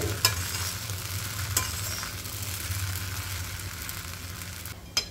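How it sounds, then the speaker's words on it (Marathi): Sabudana khichdi frying gently on low gas, a steady soft sizzle with a couple of sharp scrapes of the spoon as it is stirred now and then. "कमी गॅसवर परतायचं हिला, मधून मधून हलवत राहायचं"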